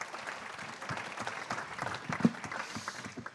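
Audience applause at a political party's national council gathering, a steady, moderately loud crowd clapping that carries evenly through the moment with a few sharper claps standing out.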